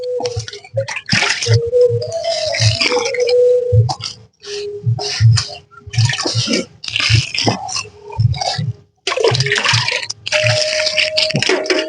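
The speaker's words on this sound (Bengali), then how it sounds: "এইভাবে জল দেবেন জল দেবেন এইভাবে একটু ঘেঁটে দিচ্ছি যাতে জলটা ভেতর পর্যন্ত যেতে পারে" Water is poured in splashing bursts onto a mixed compost blend for a rooftop garden, broken by short pauses and wet squelching as the mix is stirred by hand, close and fairly loud.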